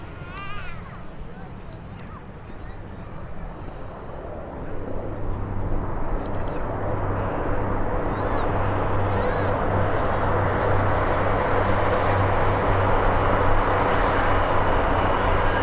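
Ryanair airliner at Birmingham airport, its engine roar building from a moderate distance into a steady, loud rumble that fills most of the clip, with faint bird calls at the start.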